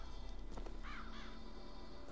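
Crows cawing in the Bioshock Infinite video game, a few hoarse calls in the mid-distance over a dense, steady game ambience.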